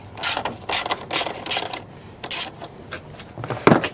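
Close, crisp bursts of ratchet clicking as a hand ratchet loosens a part on a dirt bike, several rapid runs of ticking separated by short pauses, loud and near with no talking.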